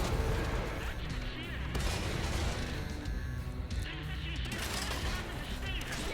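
Artillery shells from a tank battle game pound steadily as loud, dense booms and crashing impacts, with a continuous mechanical rumble of tank machinery underneath.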